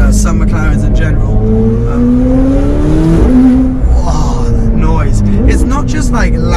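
A McLaren 720S engine revs loudly nearby, its pitch climbing and dropping in sweeps over a deep rumbling roar.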